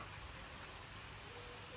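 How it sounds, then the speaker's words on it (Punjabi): Rain falls in a steady, soft hiss, faint and distant, continuing evenly throughout with no voices. "ਤੇ ਲੋਈ ਤੇਜ਼ ਹੋਣ ਲੱਗ ਗਿਆ ਮੀਂਹ ਫੇਰ"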